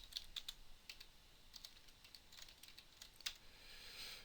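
Faint, sparse clicks of typing on a computer keyboard, a few quick keystrokes in short bursts with pauses between, close by in a quiet room.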